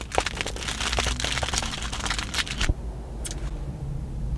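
Pages of a book with blue sprayed edges riffled quickly under the thumb, a dense close flurry of crisp paper flicks for a few seconds, then a brief second burst after a pause.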